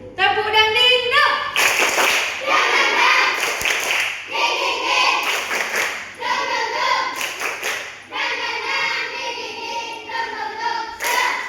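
Schoolchildren in a fourth-grade classroom clap their hands in rhythmic bursts for a clapping game, alternating with chanted and spoken voices, with some sharp taps and thumps between rounds.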